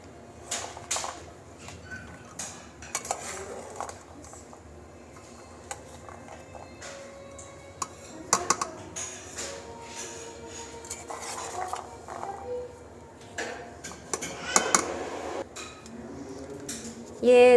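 Boiled black chana chaat with salt and fruit chaat masala being stirred in a bowl: a spoon scrapes and clinks against the dish in irregular bursts, close and fairly crisp, with no talking.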